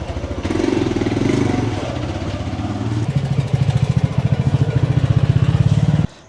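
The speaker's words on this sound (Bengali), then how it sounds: "যদি পাশ দিয়ে একটা হুশ করে বাইক চলে যায়" A motorbike passes close by in a narrow Banaras lane at night, its engine rising from a steady drone to a loud, rapid throbbing before cutting off abruptly.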